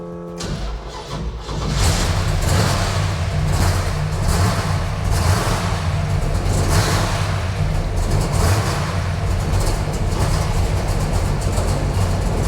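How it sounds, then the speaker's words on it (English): A 1965 Plymouth Belvedere with a 446 engine cranks briefly, then catches and settles into a loud, steady idle that continues close by. "We're just gonna give it a crank."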